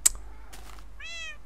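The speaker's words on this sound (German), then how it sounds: "Bis ruhig, du blöde Katze." A cat meows once in a Minecraft co-op game, a single rising, harmonic call near the end after a brief click and a short burst of noise.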